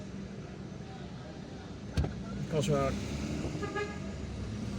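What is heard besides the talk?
oncoming traffic passing on a street in central Algiers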